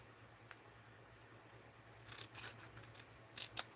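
Scissors snip through paper for a paper-craft or junk journal project, a cluster of quick crisp cuts followed by two sharper snips near the end, close by in a quiet room with a low steady hum.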